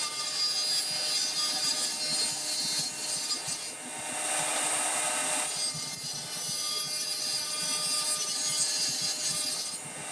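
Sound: power saw blade cutting wood piece in half

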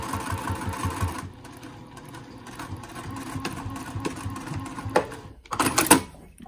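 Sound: sewing machine stitching a fabric mask

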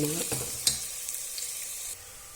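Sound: food frying and crisping in a pan

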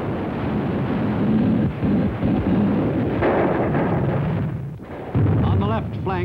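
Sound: artillery and gunfire in WWII battle on Palau

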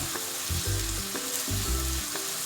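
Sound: homemade sausage frying in pan

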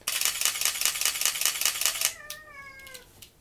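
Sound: mirrorless camera shutter clicking

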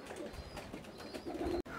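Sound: pigeon cooing in a tree

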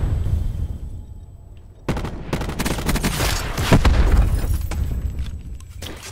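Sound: gunfire in video game Black Ops 4

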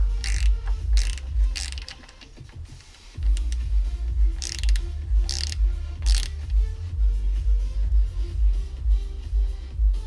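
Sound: loosening a bolt on a go-kart brake, ratcheting

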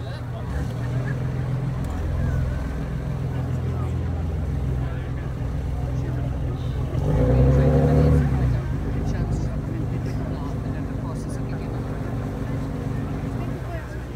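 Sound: lifeboat diesel engines running

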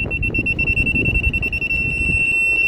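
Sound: car parking sensor beeping

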